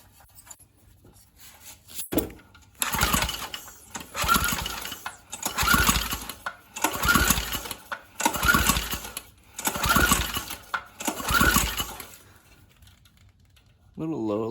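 A free Briggs & Stratton 3.5 hp small engine runs in rhythmic surging bursts about every second and a half, rising and falling in a rough, uneven cycle before cutting off near the end.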